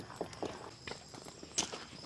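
Footsteps tread on a soft, muddy rural road, several soft, uneven squelching steps at a walking pace, fairly faint against quiet outdoor background noise.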